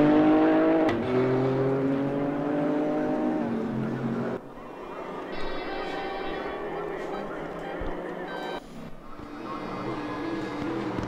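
A Nissan GT-R race car engine drones steadily in the RaceRoom racing game at Road America, its harmonic whine shifting pitch as it passes other cars, with commentary running over it.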